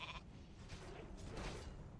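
A sheep bleat from the polymorph spell during a World of Warcraft Classic raid in Blackwing Lair, short and mid-loud within a dense game soundscape.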